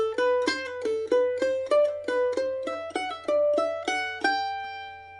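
Mandolin plays a G-scale-style exercise from Miss McLeod's Reel with quick triplet pull-offs, bright picked notes ringing in a lively rhythm, close and clear with no voices.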